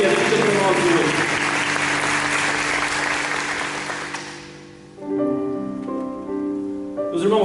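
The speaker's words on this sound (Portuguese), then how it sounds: "Vamos dar uma salva de palmas para essa palavra que é vida para nós hoje." Church congregation applauds loudly for about four seconds, the clapping fading out as organ or keyboard chords and a voice rise in its place.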